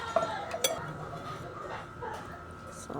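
Banana cake batter being mixed in a bowl, with a few sharp utensil clinks against the bowl early on, then softer steady scraping and stirring in a quiet kitchen.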